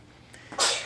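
One sharp, close sneeze bursting out after a brief quiet inhale.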